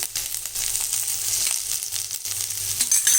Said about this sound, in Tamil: இப்போ இந்த வெங்காயம் நல்லா வதங்கிடுச்சு இதிலே வந்து நம்ம இந்த கருவேப்பிலையை போட்டுடலாம்